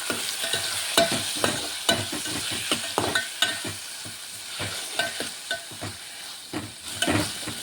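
Ginger garlic paste and half a tomato frying in a pan for chicken curry, with steady sizzling broken by repeated scraping stirs of a spoon, close and fairly quiet.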